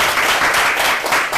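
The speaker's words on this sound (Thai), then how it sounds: "ขอเสียงปรบมือให้ผู้แนะนำและอาจารย์ของพึ่งในธุรกิจนี้" An audience at a business seminar claps in a brief, dense burst of applause, steady and fairly loud throughout.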